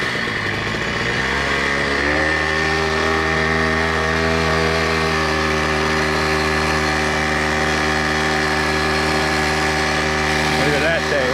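A pit bike engine runs loud and close, holding a steady droning pitch that rises slightly as the bike gets underway, continuous with no break for the whole stretch.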